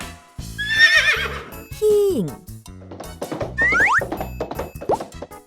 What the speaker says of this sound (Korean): 달리기를 좋아하는 말이 히잉